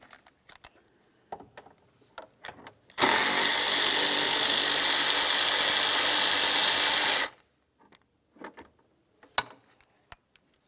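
A power tool runs in one continuous burst of about four seconds while removing 10mm bolts from a 2002-2005 Ford Explorer fan shroud, with scattered clinks and handling noises before and after.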